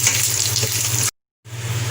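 Steady sizzling of a tadka of spices frying in hot oil for kadhi pakora, loud and close, with a brief total dropout near the middle before the crackle resumes.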